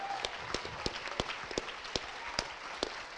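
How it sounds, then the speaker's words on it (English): Applause for a map build team at a MINECON 2015 stage event, sharp individual claps standing out over a crowd's broad noisy wash, fairly close and continuous. "Just a huge round of applause for them"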